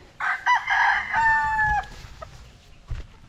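Bred stag roosters crow in a couple of drawn-out calls close by, with a few clucks and faint farmyard rustling trailing off afterward.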